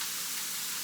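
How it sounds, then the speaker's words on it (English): Ground beef browns in a pan on high heat, giving a soft, steady sizzle with a brief stir or clatter at the very end. "we're just going to be browning the ground beef"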